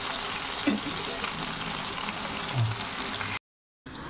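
Avoli (pomfret) fish fries in a pan with a steady close sizzle and faint crackling, a couple of soft thumps along the way, briefly cut to silence before the frying hiss returns.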